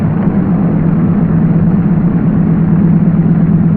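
A Douglas DC-3 radial aircraft engine runs steadily during a ground run-up check, a loud, continuous low drone that stays constant throughout with no voices.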